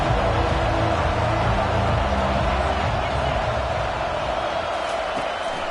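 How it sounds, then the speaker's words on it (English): Loud home crowd roaring at a college football game between Ohio State and Tennessee, a dense, sustained wall of cheering and noise that holds steady throughout, with announcer talk underneath. "These fans are going absolutely nuts."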